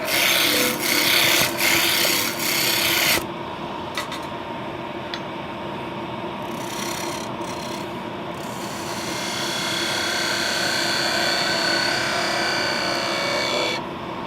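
A wood lathe runs with a steady hum while a tool rasps and scrapes against the spinning workpiece in bursts, loud and close, the cutting changing texture partway through; no talking.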